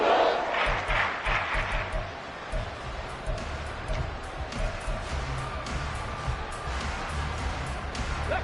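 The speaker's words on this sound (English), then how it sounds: "This crowd turning up the decibel level." Stadium crowd roar in an EA Sports football video game, a steady loud swell of cheering late in a tight game, holding as a continuous wash throughout.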